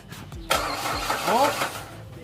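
A Ford Escape with a faulty ignition coil and no spark cranks without catching, its starter whirring in a short burst after a few clicks, while someone speaks close by.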